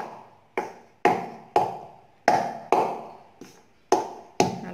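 Palm jaggery is pounded by hand to break it up, giving about nine sharp, evenly spaced knocks, each dying away quickly. The knocks are close and loud, with no voices.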